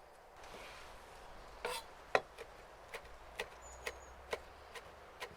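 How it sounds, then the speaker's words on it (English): Fresh herbs minced with a knife on a board, heard as a series of faint, sparse taps that grow into an irregular beat against a quiet background hush, close by, with no talking. "First, we mince the fresh herbs."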